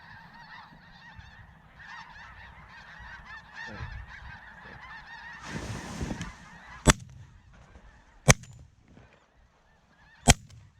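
Canada and snow geese honk steadily in a large waterfowl feeding flock, a dense overlapping chorus of nasal calls lasting throughout, broken by a burst of wing noise and then three loud, sharp shotgun blasts near the end.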